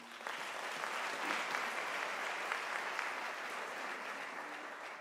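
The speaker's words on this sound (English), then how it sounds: "can we give a warm round of applause to Professor Shezi?" Sustained applause from a graduation ceremony audience, a steady wash of clapping hands lasting the full few seconds without a break.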